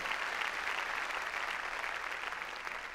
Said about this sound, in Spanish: Démosle palmas fuertes al Señor.